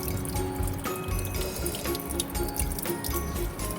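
Water runs through a tube into the pulmonary artery of a dissected goat heart, making a steady trickling and dripping with small splashes. The sound is close, continuous and fairly faint, and no one speaks.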